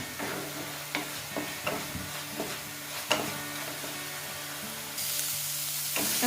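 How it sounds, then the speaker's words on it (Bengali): Onion fries in oil for chola bhatura, with a continuous sizzle under repeated stirring scrapes and spatula taps, and a louder hiss swelling up toward the end. "পেঁয়াজটাকে খুব ভালো করে ভেজে নিতে হবে।"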